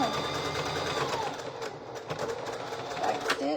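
A sewing machine runs steadily, stitching a star applique onto a Christmas quilt-style shirt, its close, continuous mechanical whir broken by brief pauses and small speed changes.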